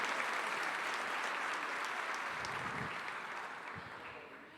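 A church congregation applauds during a Sunday morning service, a steady, dense wash of clapping that holds strong and then slowly thins and fades toward the end.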